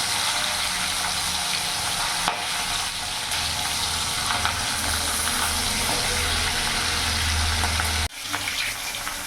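Silver carp pieces fry in hot refined oil, a loud continuous sizzle with occasional scraping as the pieces are turned, the crackle dropping briefly near the end before resuming.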